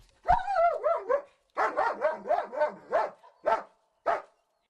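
A search dog barks loudly and repeatedly, a quick run of yelping barks followed by a steadier series with short pauses, then two final barks.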